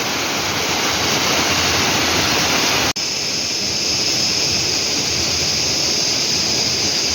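The Hasan Boğuldu waterfall in Turkey's Kaz Mountains roars in a steady, dense rush of falling water, loud and continuous from start to finish.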